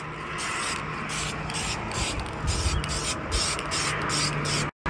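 A second coat of spray paint goes onto a truck part in close, steady hissing bursts from the can. Short gaps fall between passes, a faint hum runs underneath, and the hiss cuts out briefly near the end.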